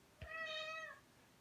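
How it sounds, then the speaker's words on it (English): An indoor house cat gives a single long, plaintive meow, clear and close in a quiet room, starting with a brief breathy onset and fading out smoothly. "My cat's come in here and is crying."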